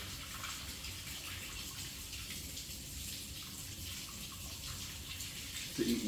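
Blueberries rinsed under a running kitchen tap, a steady broadband stream of water splashing close by throughout, with a brief louder gush at the very end and no talking.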